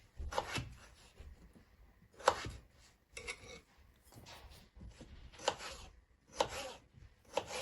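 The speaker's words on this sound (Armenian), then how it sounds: "Կտրատեց, վերջացրեց կարտոֆիլը։" A knife chops peeled potatoes on a board in a home kitchen, about seven separate crisp strikes spaced irregularly, close and fairly quiet, with no talking.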